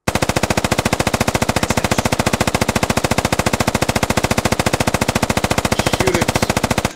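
Sustained machine gun fire in a military shooter video game, a rapid unbroken stream of loud, evenly spaced shots lasting the whole stretch with no voices.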